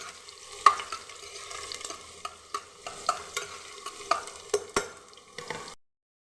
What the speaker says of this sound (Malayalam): അത് നമുക്ക് അതൊന്ന് നന്നായി ഇളക്കി കൊടുക്കാം.